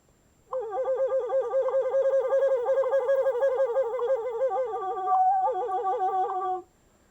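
Flute played with a fast finger trick, fingers fluttering over and around the holes to imitate crickets, giving a steady warbling trill of pitched tones that runs about six seconds with a brief break near the end.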